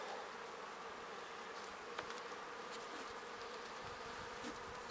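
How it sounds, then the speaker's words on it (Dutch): Honeybees buzz continuously at an open Dadant hive on heathland, a dense close-up drone of many insects with no voices. "De bijen gaan gewoon door met halen."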